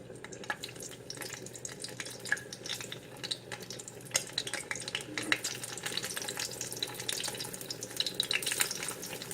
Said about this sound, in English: We're going to go ahead and fry the tofu.